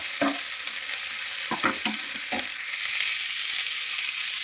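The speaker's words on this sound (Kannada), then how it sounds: "ಕೊತ್ತಂಬರಿನ ಈಗ ಇದು ಇನ್ನೂ ಫ್ರೈ ಆಗಬೇಕು" Coriander and spices frying in a pan for urad dal sambar, a steady close hiss of sizzling oil with a few short scraping stirs of a spoon early on.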